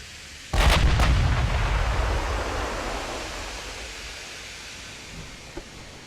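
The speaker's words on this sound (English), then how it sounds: "Wham! Oh, ammo detonation. She's in big trouble." Naval gunfire and an ammunition detonation in the Ultimate Admiral: Dreadnoughts warship game: a sudden heavy boom with a couple of sharp cracks, then a long rumbling roar that slowly fades away.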